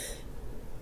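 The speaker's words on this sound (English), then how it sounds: "Sorry about all this coughing" A single short cough or throat-clearing burst from a person, close and brief, followed by breathy low noise.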